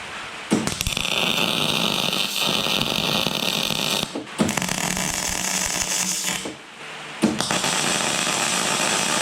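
Two steel pieces are welded together during a gravity screener rebuild, giving three long, loud buzzing, crackling bursts with short pauses between them, close by, with no talking.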